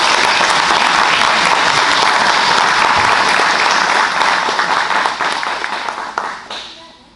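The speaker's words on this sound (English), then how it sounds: "And you can clap." Audience at an annual meeting clapping for a certificate recipient, loud dense applause that holds steady, then thins and fades out over the last two seconds.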